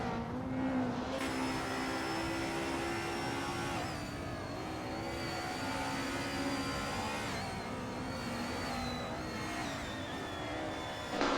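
Race cars in an AI racing video game whine at high revs, their engine tones rising and falling in pitch as several cars run closely together, steady and moderately loud with no voices.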